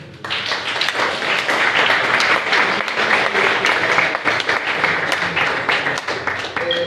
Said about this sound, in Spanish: así que un aplauso también